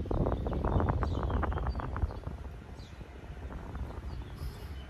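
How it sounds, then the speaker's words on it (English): Steady wind gusts on a high, exposed spot buffet the microphone with a low, rumbling roar that rises and eases slightly throughout. "it's very windy and breezy up here today"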